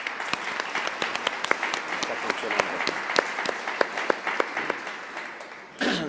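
An audience applauds after a talk at a panel on China and Latin America, steady clapping with sharp individual claps standing out, ending as a speaker begins briefly.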